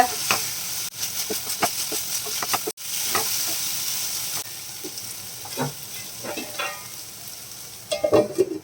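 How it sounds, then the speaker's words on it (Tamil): Masala-coated fish pieces fry in a pan with a close, continuous sizzle and hiss. Scattered pops and scraping stirs break through, and the sound dips quieter partway through before sharper crackles return. "எல்லா மீன்லயும் இந்த மசாலா படுற மாதிரி நம்ம இத ஃப்ரை பண்ணிக்கலாங்க"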